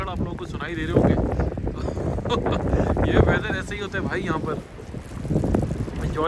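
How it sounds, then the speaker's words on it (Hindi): Strong gusts of wind buffeting the microphone outdoors in Canada, a loud continuous roar that swells and eases under someone talking throughout. "देख रहे हैं हवाओं के झक्कड़ आप लोगों को सुनाई दे रहे होंगे।"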